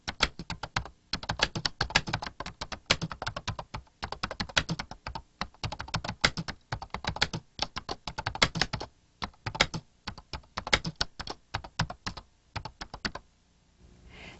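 Fast, steady typing on a computer keyboard in Lotus Ami Pro for Windows from 1994, a continuous patter of crisp key clicks with brief pauses between words, close and clear.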